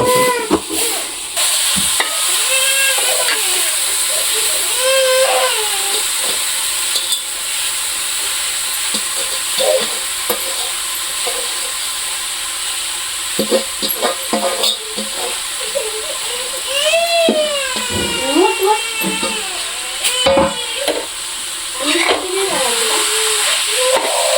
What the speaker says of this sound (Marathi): मस्त त्याची भाजी अशी परतून घ्यायची